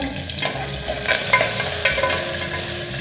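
Mustard seeds, cumin, curry leaves and ginger-garlic paste fry in a hot pan for pulao, giving a continuous close sizzle with a few stirring scrapes and small crackles.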